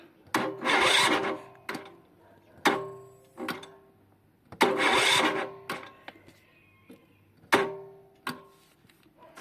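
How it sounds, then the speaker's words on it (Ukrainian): Kamastsu KS3800E petrol generator being cranked by hand with its recoil cord: two long, close, rasping pulls with sharp clicks and shorter tugs between them, and the engine never catches. "Зараз ще раз спробуємо його подергати, може зараз заведеться."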